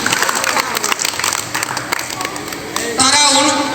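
Schoolchildren at a high madrasah in Abbasganj give a loud burst of clapping for a classmate who wants to be a soldier, a dense crowded patter that swells toward the end amid chatter and voices.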